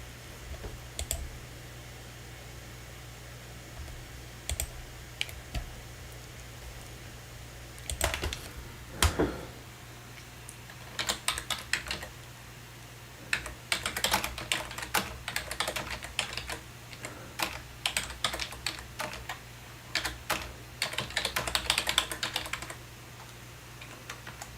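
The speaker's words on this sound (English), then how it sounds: "Typing over here." Typing on a computer keyboard: bursts of quick, close clicking keystrokes separated by pauses, with heavier flurries in the second half and a faint steady hum underneath.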